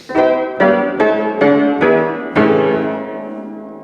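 Six notes struck on a historic keyboard instrument in an even rhythm, its sympathetic strings engaged, each note ringing out with a rich, lingering resonance that sustains and slowly fades after the final note.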